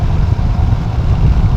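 Steady, loud engine drone and wind rush from a motorcycle cruising at 80 km/h, with a continuous low rumble and no breaks.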